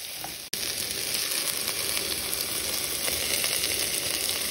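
Okra and pumpkin cook in a hot pot for a Trinidad crab and callaloo, a loud continuous sizzle with a short break near the start, then steady frying hiss throughout.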